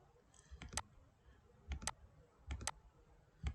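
A few sharp computer keyboard clicks in small clusters, including an Enter key press, close up against a quiet room with no talking.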